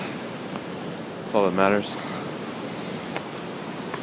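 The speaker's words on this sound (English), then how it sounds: "the white waves crashing down, and you can hear the sound at least" Ocean waves crash on the shore at night with a steady broadband wash of surf and wind, while someone speaks briefly over it.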